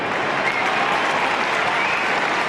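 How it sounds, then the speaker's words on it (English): A crowd at an Australian football match at the MCG claps and cheers loudly and steadily for a goal, a dense wash of applause with no pauses. "And they clap that one through"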